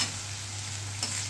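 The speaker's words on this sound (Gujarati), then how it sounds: "જેનો કેટલો સરસ વઘાર આવ્યો" Mixed vegetables such as cluster beans, potato, cabbage, tomato, chilli, pointed gourd and eggplant tempering in hot oil in a home kitchen, giving a steady close sizzle with a brief stirring scrape near the end.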